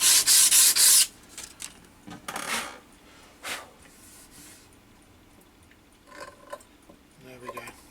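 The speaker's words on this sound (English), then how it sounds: "give this side a quick rub down, just to remove the bits around the holes" Hand sanding of a wooden tracker-action keyboard part, clearing rough bits around drilled holes: a loud burst of rapid rubbing strokes at the start, then sparser, quieter scraping and light handling noises.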